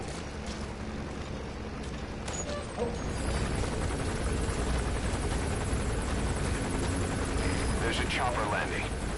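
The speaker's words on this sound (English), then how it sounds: "There's a chopper landing." A helicopter lands in the Metal Gear Solid V video game: a loud, continuous rotor-and-engine roar fills the whole stretch, swelling slightly after the first few seconds and holding steady.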